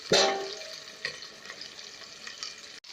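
Homemade brosted chicken deep frying in hot oil, a sharp sizzle burst at the start settling into a steady bubbling crackle with small pops, close and alone.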